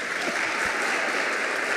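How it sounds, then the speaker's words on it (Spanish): Applause from an audience at a university panel talk: a steady wash of many hands clapping at an even level throughout, with no voices on top. "así que merece un aplauso"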